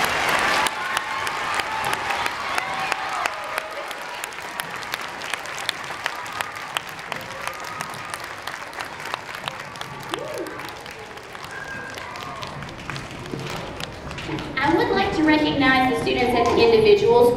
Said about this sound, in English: Boys and girls, would you clap and let the AMP kids know how much you like their performance?